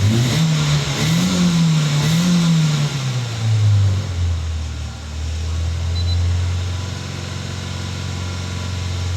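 A Vauxhall/Opel Tigra engine revs up and down in a few swells toward about 2,500 rpm, then settles into a steady low rumble at idle, close by with no talking.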